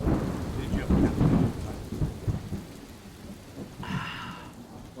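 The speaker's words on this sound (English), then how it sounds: "the storm came in" A thunderstorm with rain on an off-road trail near Christina Lake: low rolling thunder rumbles early, then steady rain patter, with a brief sharper burst near the end, no talking.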